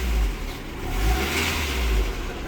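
An old car engine revs up in short pulses, rising and falling twice in a throaty low rumble, close by with no talking.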